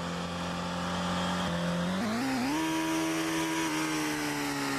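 A lowered Volkswagen Jetta in a racing video game revs hard as its engine note drops with a downshift from fifth to second gear, then climbs steadily again, loud and continuous with no talk over it.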